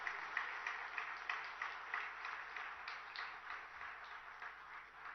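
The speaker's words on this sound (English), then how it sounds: "Can we have a huge round of applause?" Applause from an audience at the launch of Google for Startups at the T-Hub startup hub, a sustained patter of many hands clapping, fairly faint and distant, gradually tapering off.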